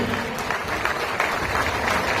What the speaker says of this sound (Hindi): और एक बार हमारे प्रदेश अध्यक्ष के लिए जोरदार तालियां